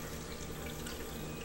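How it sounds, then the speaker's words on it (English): Warm water runs steadily from a kitchen sink tap into a deep pan around ramekins for baking flan, a continuous close splashing rush with no voices. "warm water from the sink."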